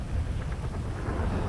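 Rain and thunder in the Grand Theft Auto video game: steady, dense rainfall over a low, rolling thunder rumble, continuous and unbroken with no voices.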